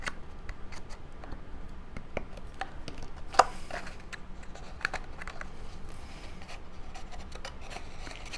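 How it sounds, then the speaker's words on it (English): A paper Easter egg box being handled, flipped over and its tabs pushed down, making soft papery rustles and scattered light clicks and taps at close range. "now I'll flip it over and push the tabs down from the inside"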